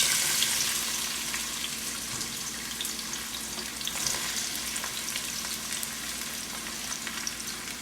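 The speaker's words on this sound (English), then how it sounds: "I have in this pan right here some of my grapeseed oil preheated. So I'm gonna add my onions" Chopped onions hit preheated grapeseed oil in a pot, giving a steady, bright sizzle and crackle of frying that stays even and close for the whole stretch, with no talking.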